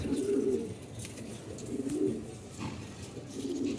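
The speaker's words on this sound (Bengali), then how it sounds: "এই যে কবুতরটা ঠিক আছে" A fancy pigeon cooing, repeated low soft coos in a slow rhythm, fairly faint against a quiet background, with no talking.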